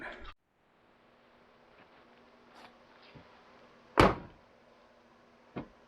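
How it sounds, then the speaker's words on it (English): The door of an abandoned GMC truck being popped open: a sharp, loud clunk of the latch and door, followed later by a softer knock, in an otherwise quiet setting with faint rustling. "let's pop this other door open and try to get this thing to air out a little bit"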